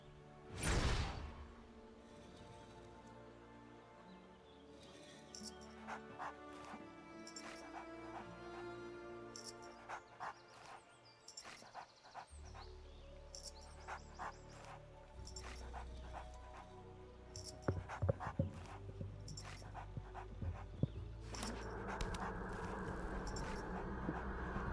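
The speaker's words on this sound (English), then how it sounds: "Why won't this dog be quiet?" A dog barks, yips and whimpers on and off in the background of a room, with short bursts and soft whines scattered among clicks and other household noises. Nobody speaks.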